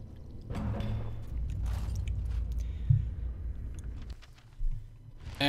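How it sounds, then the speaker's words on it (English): Water spills slowly from a jug into a pool in Dragon Age: Origins, a steady low splashing pour running for several seconds with a few soft thuds and a brief splash near the end. "Slowly, you spill the water out of the jug back into the pool."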